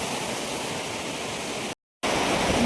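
Sea waves rolling onto the shore at Gopnath beach, a steady broadband wash of surf close by, briefly cut off by a short silent gap before the roar resumes.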